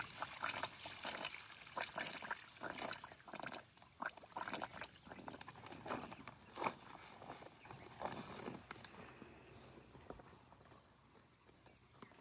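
Water pours and splashes into a large bucket on a farm, a steady broadband rush with uneven surges and trickling, fairly close, with no one speaking.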